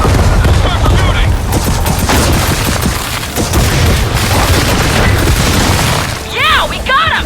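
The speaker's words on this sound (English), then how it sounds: "Let's start shooting." Gunfire and explosions from the Gears of War 4 video game, dense booms and rapid bursts of shots rolling on continuously, loud and close, with game voices and creature cries mixed in.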